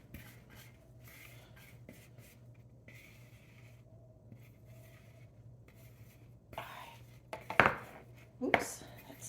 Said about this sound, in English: Scrape off the whole bowl.